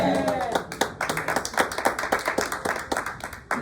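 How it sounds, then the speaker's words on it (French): A church congregation claps warmly together, a dense run of hand claps that rises and falls in loose rhythm for several seconds, close and fairly loud. "Nous applaudissons chaudement"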